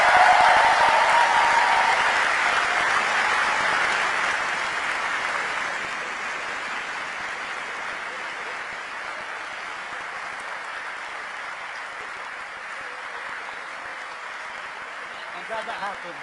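An audience at a Manchester summit gives councillors leaving the stage a long round of applause and cheering, loud at first, then fading to a softer, steady patter.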